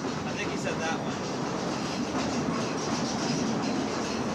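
An old wooden Scenic Railway roller coaster train at Dreamland amusement park in Margate is pushed slowly along its track, giving a faint rolling rumble with soft clatter under a low background murmur.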